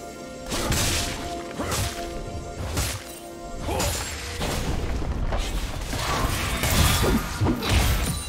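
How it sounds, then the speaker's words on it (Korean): A turret collapses in League of Legends with a series of heavy crashing smashes and booming impacts, layered with mechanical clanks and whooshing debris, loud and continuous over several seconds. "파랑 팀의 포탑이 파괴되었습니다."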